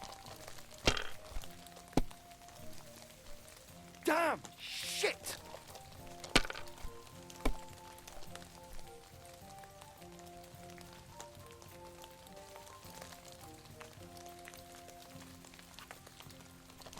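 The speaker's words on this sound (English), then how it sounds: "Damn rain." Steady rain patters in Kingdom Come: Deliverance 2 beneath soft sustained game music, broken by a few sharp thuds and cracks, while a man curses twice.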